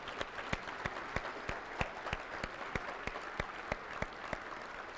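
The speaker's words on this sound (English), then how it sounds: "Would you please give them a round of applause?" A conference audience applauds the event staff at a closing session, a continuous, fairly distant patter of many hands with a few louder individual claps popping out at an even pace.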